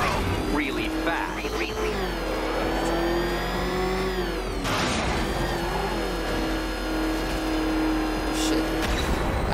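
Batmobile in Batman Arkham Knight revs and accelerates, its engine tone climbing and falling across several surges, with a voice speaking over the game sound.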